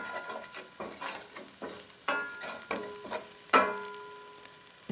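A flat-ended spatula scrapes fond from the bottom of a pan during deglazing, with shallots and fresh herbs already cooking. About eight distinct scraping strokes come at a steady rhythm, close and clear, over a faint sizzle.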